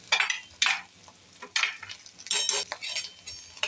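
Ginger garlic paste is sautéed with masala in a pan for misal, with repeated bursts of spatula stirring and scraping over a light sizzle, close and moderately loud.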